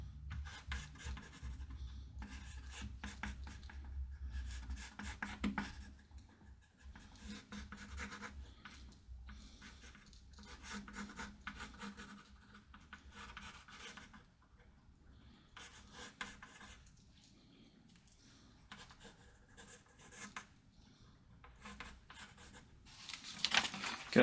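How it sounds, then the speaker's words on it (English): Quiet, scratchy rasping of a gouge cutting into wood while carving chips, in repeated short bursts with gaps between the strokes, close but soft. "I want to take a gouge out there."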